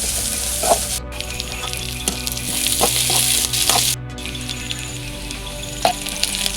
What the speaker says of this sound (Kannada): ಈಗ ಈರುಳ್ಳಿನ ಸೇರಿಸ್ಕೊಳ್ತಾ ಇದ್ದೀನಿ ಕೆಂಪಾಗೋವರೆಗೂ ಫ್ರೈ ಮಾಡ್ಕೋಬೇಕು